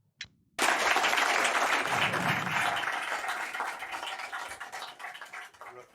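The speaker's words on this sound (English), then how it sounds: "Do you notice how they all clapped and then he cut to them talking?" A presentation audience breaks into loud, dense applause that starts abruptly after a short click, holds steady and then slowly thins and fades toward the end, with no talking.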